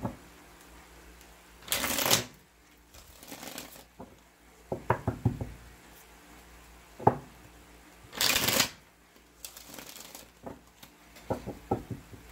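Tarot cards being shuffled during a Scorpio reading: loud riffling bursts near 2 and 8.5 seconds, interspersed with softer taps and card slaps, close and alone with no talk.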